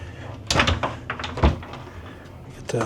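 A closet door in a standard interior stateroom aboard the cruise ship Jewel of the Seas opens with a couple of close, dull knocks and a brief rattle, followed by quieter handling sounds.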